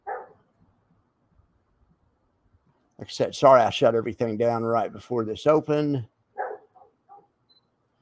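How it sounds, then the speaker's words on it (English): A white dog barks from inside a house, short muffled yelps at the start and again near the end, while someone talks through the middle of the clip. "That's my white dog you can hear inside of the house barking"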